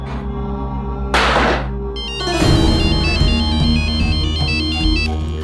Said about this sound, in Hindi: एक काम करो, फोन लगाओ उस राजवीर को